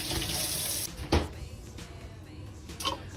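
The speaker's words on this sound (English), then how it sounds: "Then you're gonna wash your hands." Hands being washed under a running kitchen tap while preparing a banana lunch: a steady hiss of flowing water with a brief clunk partway through, then softer splashing and rubbing, close and moderately loud, with no talking.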